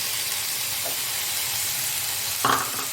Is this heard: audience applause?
no